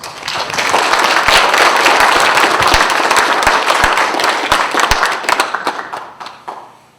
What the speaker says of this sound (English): she deserves another real good round of applause